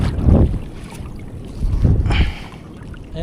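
Gusty coastal wind buffets the microphone in low rumbling bursts, with a loud gust at the start and another swelling midway, over faint water sounds of a rising tide.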